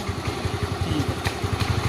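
Close motorcycle engine chugging in rapid, regular pulses, a low throbbing idle with slight rises in revs, no talking.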